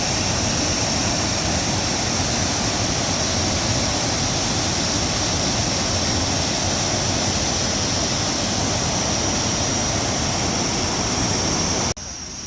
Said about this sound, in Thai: มาเจอน้ำตกแล้วนะ น้ำตกสวยมาก สวยมากเลยอะ น้ำตกอลังการงานสร้าง